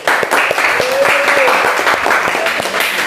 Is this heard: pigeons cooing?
no